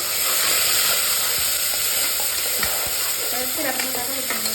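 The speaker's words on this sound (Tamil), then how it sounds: "பச்சை மிளகா, பூண்டு, வெங்காயம் அதெல்லாம் போட்டு கிளறிக்கோங்க" Green chilies, garlic and onion fry in a hot pan with a continuous loud sizzle, while a spoon stirring them adds scraping clinks near the end.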